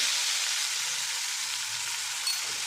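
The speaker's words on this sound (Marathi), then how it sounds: "आता हे चांगलं परतून घ्यायचं" A paste of green chili, coriander and ginger sautés in a pan with a dense, even sizzle, close and continuous, with no voices.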